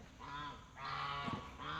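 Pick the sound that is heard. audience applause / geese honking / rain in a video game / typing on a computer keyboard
geese honking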